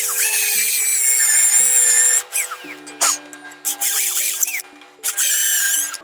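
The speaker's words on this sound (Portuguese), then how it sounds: "Vou fazer a furação de topo para passar o parafuso." A power drill bores a top hole for a Minifix bolt in a wardrobe panel, giving a loud, close, high whine that runs steadily, drops out briefly, and restarts in several short bursts.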